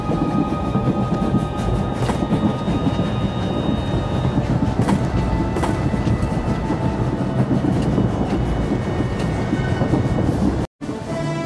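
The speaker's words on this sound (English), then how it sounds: "The train is on the move, and the traitor's on board." A moving train rumbles continuously and loudly in Star Wars: The Old Republic, with steady rolling clatter and occasional metallic clanks before a brief cutout near the end.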